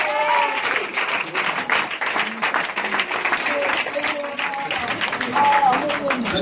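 Audience applause at a church teaching service, a steady wash of clapping from a crowd, loud and continuous throughout, with voices calling out and talking over it.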